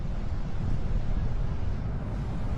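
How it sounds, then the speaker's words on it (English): Wind blowing outdoors, a steady, loud rushing roar buffeting a camera microphone throughout, with no voices. "it is windy"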